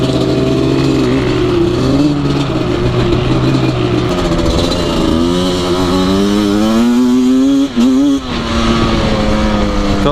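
A rebuilt 1997 Yamaha Banshee two-stroke engine revs loudly and continuously up close, its pitch climbing and falling through repeated throttle blips, with a brief dip near the end.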